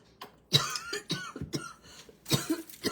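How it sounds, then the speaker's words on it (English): A series of dry, hacking coughs in short bursts, close to the listener, with brief quiet gaps between them. "It's just this dry, wicked dry cough."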